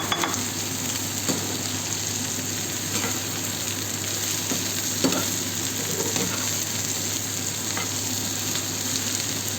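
Eggplant and onion fry in a pan, a loud, steady crackling sizzle with occasional sharper pops and stirring scrapes.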